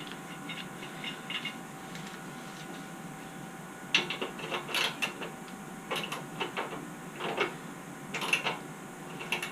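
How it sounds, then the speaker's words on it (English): Ratcheting and metallic clicks from loosening bolts on a Baja Warrior 196cc mini bike, coming in short irregular bursts of a few turns each, close by and fairly quiet, with no talking. "I'm going to loosen it up all the way, just in case we need some wiggle room."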